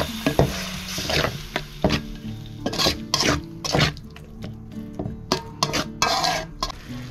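Ground chili, coriander, cumin and turmeric stir-fried in a pan for a Bengali taro and milk dish, with loud, close scraping spatula strokes in an uneven rhythm over a light sizzle, no talk.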